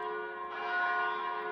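A church-like bell rings out in a recorded music track, sustained and resonant with a steady ringing tone throughout, loud and alone without any voices.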